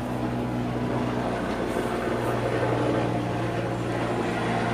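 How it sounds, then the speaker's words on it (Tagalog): A helicopter passes overhead outdoors, a steady broad rumble with a low rotor throb holding at even loudness throughout, with no voices. "May helicopter na dumaan."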